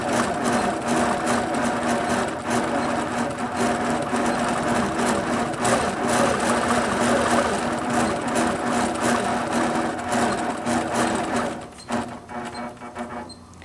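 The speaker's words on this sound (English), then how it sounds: "the machine stops when I stop and then begins again when I start moving" A quilting sewing machine with its stitch regulator engaged stitches tiny background quilting, a fast steady mechanical needle chatter running close and continuous for most of the stretch before stuttering and slowing near the end.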